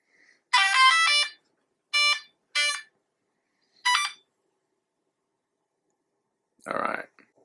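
Brushless 100 amp ESC in an ARRMA Infraction Mega with a 3900kv motor beeping at startup as the battery is plugged in: one long tone, then three short ones spaced apart, loud and clean in an otherwise quiet space, ending on a short hiss.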